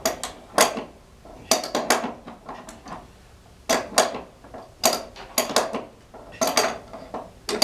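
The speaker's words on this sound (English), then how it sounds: "Now I gotta get another wrench on it here." Metal wrench clanking and scraping on a Frick sawmill pulley during a pulley change, a series of close, sharp metallic clinks and rattles in irregular bursts with short pauses between them.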